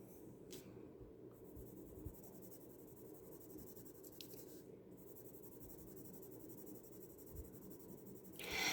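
Colored pencil in a darker bottle-green shade scratching steadily across sketch paper, a soft continuous rubbing texture that stays close and quiet, with a brief louder swipe at the end and no voices.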